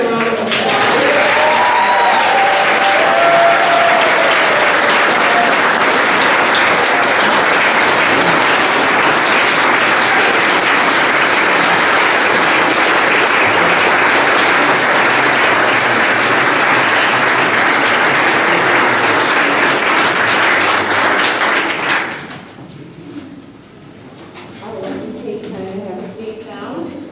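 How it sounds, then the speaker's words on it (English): A large audience at a leadership organization event applauds in a dense, sustained wash of clapping for about twenty seconds before it stops sharply, leaving quieter room sound. "Would you join me in a round of applause?"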